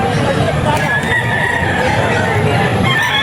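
A kanawayan gamefowl rooster, the biggest of its siblings, crows amid constant busy background noise from a crowded yard of other birds and voices.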